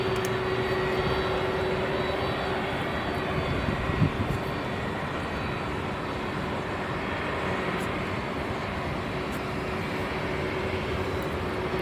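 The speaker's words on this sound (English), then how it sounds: "MD-11 taking off." A FedEx MD-11 cargo jet takes off at Sky Harbor International Airport with a loud, steady engine roar that holds for the whole stretch. The sound is broadband and continuous, with a faint tonal hum underneath.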